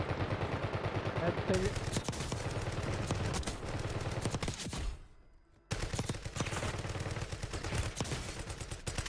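Rapid automatic gunfire crackles in Warzone, dense bursts of closely spaced shots with a brief silent gap in the middle before the firing resumes just as heavily.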